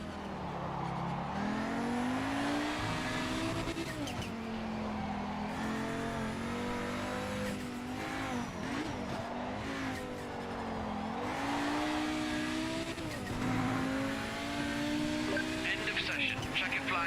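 Race car engine in Project Motor Racing, droning steadily with rising and falling revs through gear changes across a lap, moderately loud and continuous throughout.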